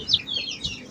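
Bangkok chicken chicks clucking and peeping in a quick, bright burst lasting under a second, close by, with no voices.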